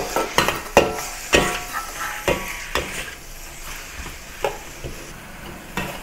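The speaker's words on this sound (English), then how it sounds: "Now add the tomatoes and cook it for a little while." Tomatoes stir-fried with beef and onions in a wok, a steady sizzle broken by sharp scraping and clacking strokes of a utensil at an irregular rhythm, with no talking.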